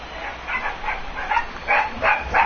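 Several dogs bark and yip in quick repeated bursts, fairly close and growing louder toward the end, with no one speaking over them.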